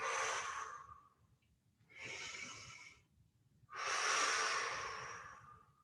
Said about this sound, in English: So inhale up, exhale over.